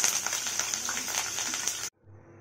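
Curry leaves crackle and sizzle in hot oil for a crispy anchovy fry, a steady bright hiss with small pops that cuts off abruptly near the end, leaving a faint low hum.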